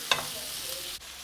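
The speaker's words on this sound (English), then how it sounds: "let them really nicely sizzle before I add the thinly sliced onions" Thinly sliced onions hit hot oil in a pan with a brief sharp clatter, then a steady close sizzling hiss carries on alone.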